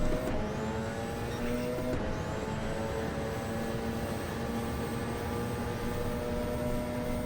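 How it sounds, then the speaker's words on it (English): A Porsche engine revs in a racing video game, a loud, sustained engine drone with rising gear-change pitch sweeps, heard up close and steady with no talk over it. "I got this raring Porsche engine going on in my ears."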